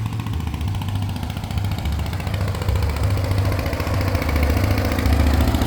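An old John Deere tractor idles at a car show, its engine running with a steady low chugging throb that holds loud and close from start to finish.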